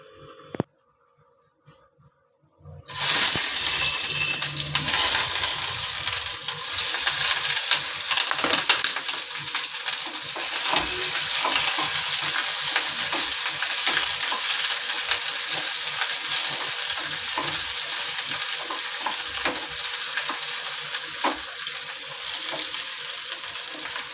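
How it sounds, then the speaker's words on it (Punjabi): Bell peppers and onion fry in a pan with a steady, loud, close sizzle that starts abruptly after a few quiet seconds and holds for the rest of the stretch, with occasional stirring clicks. "ਆਪਾਂ ਥੋੜਾ ਟਾਈਮ ਸ਼ਿਮਲਾ ਮਿਰਚ ਤੇ ਪਿਆਜ਼ ਨੂੰ ਫਰਾਈ ਕਰਾਂਗੇ"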